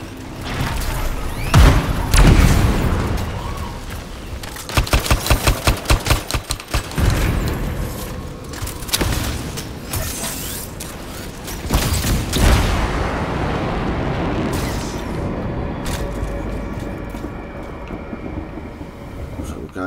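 Rapid automatic gunfire from a fully automatic weapon in the game Anthem, a burst of closely spaced loud shots amid other booming combat noise and explosions.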